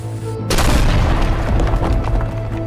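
Dynamite blows up in a homemade indie video game after a short quiet lead-in, a loud sudden boom followed by a long rumbling, crackling tail that fills the rest of the clip.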